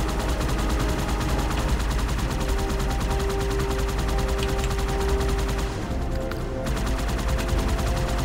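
Dense, continuous battle din from Halo 2: Anniversary, grenade blasts mixed into steady gunfire and loud thumping low rumble, with a brief dip near the end before the chaos resumes.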